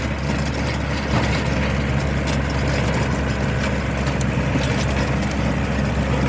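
A small Japanese tractor's engine runs steadily and loudly at close range while tilling heavy clay soil, a constant low rumble with a rough mechanical texture and no pauses.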